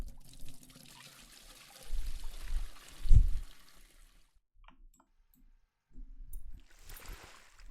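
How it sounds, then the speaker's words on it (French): A bucket is filled with water at a sink in an aquatic store simulator video game, giving a steady pouring trickle that swells briefly before stopping, with a second short splash of water afterward. "Remplir le seau"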